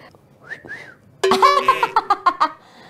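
A person whistles several short, bright notes in a quick rising-and-falling pattern, loud and close. Softer whistled chirps come first, and no other sound competes.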